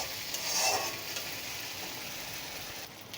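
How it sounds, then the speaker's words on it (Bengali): Spice paste for potol posto fries in oil in a pan with a steady, close hiss, swelling briefly near the start as it is stirred, then settling into an even sizzle with no talking. "মশলা থেকে একটু তেল ছাড়া পর্যন্ত একটু ভালো করে কষিয়ে নেব"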